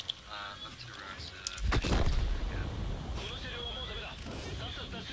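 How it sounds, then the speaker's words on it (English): Artillery shells strike during a World of Tanks clan wars battle, a heavy boom landing midway and rolling off into rumble, with someone talking over the combat noise before and after. "That was artillery."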